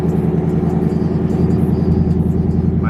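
A Nissan Y33 Cima with a freshly cut front frame and new subframe drives along, its engine giving a steady, loud, close-up rumble with no change in pace and no talking.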